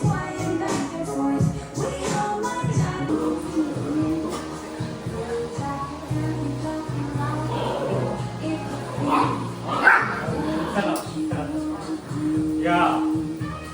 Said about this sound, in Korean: 항상 흥분을 해서 짖어요